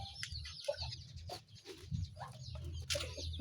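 Young chicks and hens cluck and cheep in a backyard coop, with scattered soft calls and brief high peeps over a low rustling background, fairly faint and close.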